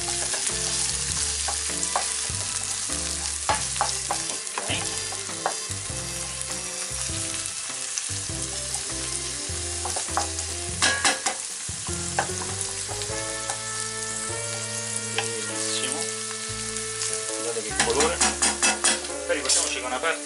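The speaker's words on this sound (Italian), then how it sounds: "La nostra cipolla sta soffriggendo" Chopped onion and asparagus stems sizzle and fry steadily in a pan while being stirred, with clinks and scrapes of a utensil against the pan throughout, loud and close, for a risotto with asparagus and taleggio.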